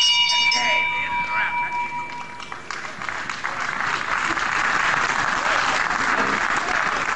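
A ringing bell at a televised professional wrestling match in a British hall rings clearly at the start with sustained tones, then gives way to steady crowd applause and noise.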